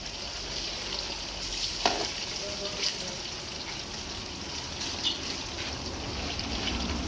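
Chicken wings frying in a copper pan, a steady broadband sizzle with occasional sharper pops and bursts of stirring, fairly even in level throughout.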